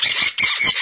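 A sun conure or quaker parrot lets out three quick, loud, harsh squawks in close succession, near and piercing, with no other sounds around them.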